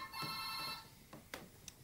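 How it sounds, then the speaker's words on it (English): A telephone rings indoors in one electronic trill lasting under a second, fairly faint, followed by a couple of small knocks and movement. "Can you get that phone, please?"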